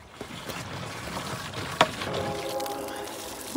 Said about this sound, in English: let's get the submersible pump in here, put her in the old blue jug